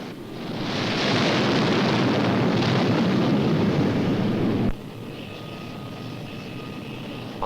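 Jet aircraft launched by catapult off an aircraft carrier deck, a loud roaring engine blast that swells quickly, holds steady, then cuts to a lower continuous rumble, with no voices.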